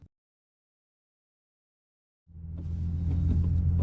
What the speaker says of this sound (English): First drive in the 2017 Nissan 370z.